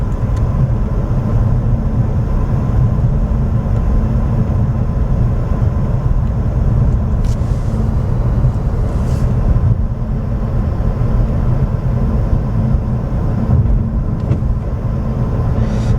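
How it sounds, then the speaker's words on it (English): A steady, broadband whirring rumble fills the whole stretch, consistent with an Ulanzi cooling fan running on a Canon R5 II camera inside a car, with a couple of faint brief clicks and no talking. "I got the fan going."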